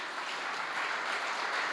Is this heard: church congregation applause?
yes